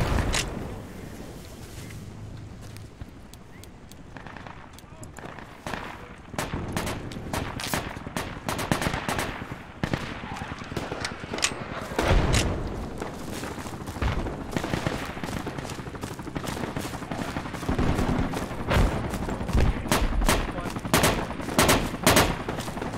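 A big gun mounted on a vehicle fires in Project Reality, heavy rapid bursts of gunfire cracking out in uneven volleys, loud and sustained through the battle with other shots mixed in.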